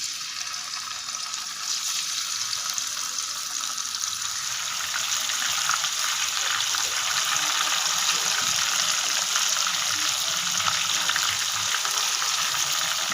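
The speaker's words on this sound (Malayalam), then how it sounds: "നമുക്ക് ചിക്കൻ പൊരിക്കാനായിട്ട് ഇടാം" Marinated chicken sizzles steadily in hot coconut oil, a loud continuous crackling fry that swells after the first couple of seconds and holds, with no talking.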